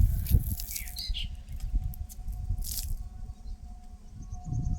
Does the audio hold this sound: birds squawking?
yes